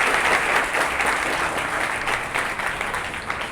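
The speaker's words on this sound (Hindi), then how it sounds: "तो ताली बजाइए अपने सर के लिए।" Students at a school prize distribution clapping for their teacher, steady crowd applause that carries on at an even level.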